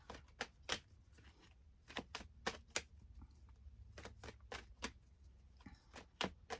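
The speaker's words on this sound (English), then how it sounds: "Just want to give them a really good shuffle here." A deck of tarot cards is shuffled by hand, giving a series of quiet, sharp riffling snaps at irregular intervals with soft rustling between them.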